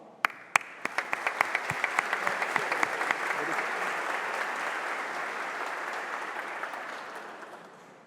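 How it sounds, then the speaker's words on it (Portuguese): Applause fills a Rio de Janeiro city council medal ceremony: a few loud separate claps at the start swell into sustained, dense clapping from a seated audience that builds and then tapers off near the end. "e aplausos"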